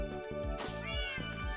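A Minecraft cat meows twice in the game, clear and close, with a voice speaking over part of it.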